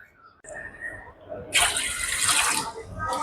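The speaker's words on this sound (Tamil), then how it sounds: "இன்னும் கொஞ்சம் தண்ணி ஊற்றிக்க போகிறேன்." Water is poured into a pot of traditional Tamil marunthu kuzhambu, a close gushing stream starting midway and running steadily, following a brief moment of speech.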